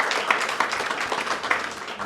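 Applause from an audience at an annual general meeting, a short, dense patter of many hands clapping at steady volume for about two seconds.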